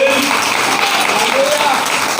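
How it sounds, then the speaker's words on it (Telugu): A church congregation claps in praise, a dense, loud wash of applause filling the whole stretch with no breaks, while voices sound faintly within it. "నమ్మిన వారందరూ చప్పట్లు కొట్టి దేవుని స్తుతించండి"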